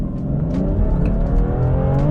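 A 440-horsepower BMW M Competition car revs its engine up close. A deep, steady roar holds and builds slightly over two seconds, with no voices.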